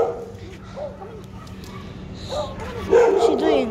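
A dog gives a few yips and short whimpering barks in the distance outdoors, mixed with people talking nearby, with a louder bark burst toward the end.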